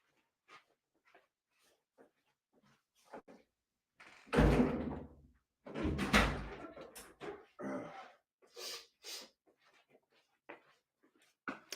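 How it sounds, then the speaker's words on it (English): A door closes with a solid thunk amid shuffling and handling noises, close and moderately loud, followed by quieter movement sounds in a room. "let me close this door"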